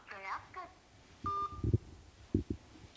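A phone number is dialed to call a member of parliament, with a few distinct keypad tones and beeps heard after brief speech, fairly quiet overall.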